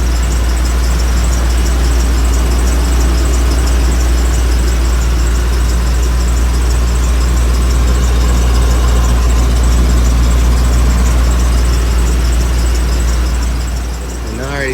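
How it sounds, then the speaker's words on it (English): Engine of a 1997 Ford F250 tow truck idling through a newly installed muffler exhaust, a loud, steady low rumble that holds unchanged for the whole stretch without any talk. "Just wanted to show you guys what it sounds like without the exhaust on it, and also with the exhaust on it."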